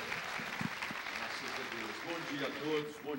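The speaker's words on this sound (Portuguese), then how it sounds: "Aplauda ao Senhor." Congregation applauding at a church conference, a broad steady wash of clapping throughout with voices mixed in underneath.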